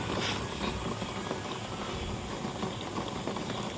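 Water heating in a pot on a stove gives off a steady, close hiss of simmering and bubbling, with no break from start to finish.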